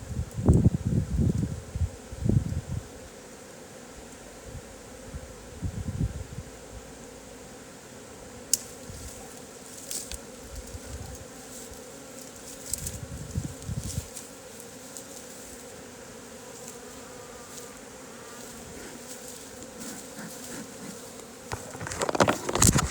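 A honeybee swarm buzzes steadily throughout while the bees fan, a dense continuous drone with louder close passes and rustling handling noises at the start and end.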